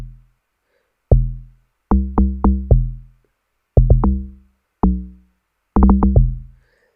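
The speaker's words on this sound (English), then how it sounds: "This is how the original log drum sounds." Original amapiano log drum playing alone: deep, booming pitched hits with quick decay, set out in a syncopated pattern of single strikes and short rapid clusters with gaps of silence between them.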